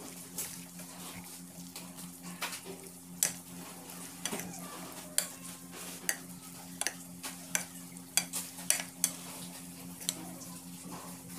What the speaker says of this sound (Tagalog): Tapos, haluin na natin siya.